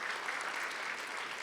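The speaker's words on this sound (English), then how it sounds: "let's give Diane and Rodney a huge round of applause" An audience at a volunteer awards event gives a round of applause, continuous dense clapping at moderate, somewhat distant level.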